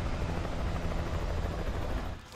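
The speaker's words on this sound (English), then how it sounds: "Get to the chopper!" A helicopter in the video game Alan Wake roars loud and near with a dense, continuous rotor and engine rumble that drops off abruptly at the very end.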